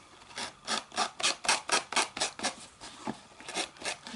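A cardboard toilet paper roll is filed in a quick, steady series of about a dozen rasping strokes, close and fairly soft, with no talking.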